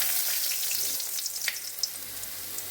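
Dried red chillies and bay leaves frying in a little oil, giving a steady hissing sizzle with faint crackles throughout and no voices.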